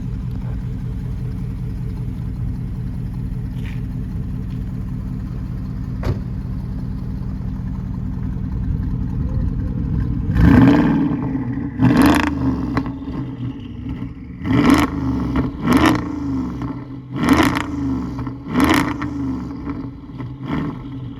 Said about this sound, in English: The car is up to temperature, so there's no harm in putting a few revs on